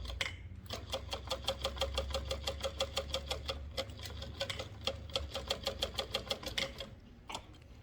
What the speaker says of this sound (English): we are going to sew this down at 1/4 inch